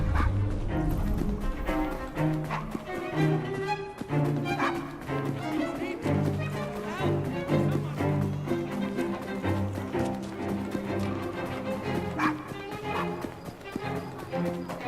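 A dog in the Assassin's Creed Syndicate video game barks in repeated woofs and lets out whimpers, close and fairly loud, over a busy game soundtrack with faint background voices.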